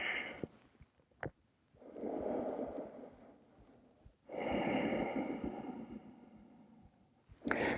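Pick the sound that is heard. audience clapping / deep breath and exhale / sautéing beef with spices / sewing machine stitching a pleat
deep breath and exhale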